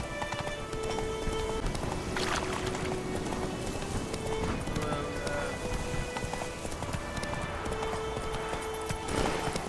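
Hooves of the horse Roach in The Witcher 3, steady clip-clop of a horse on the move under continuous ambient noise and a faint tonal game hum, moderately loud throughout.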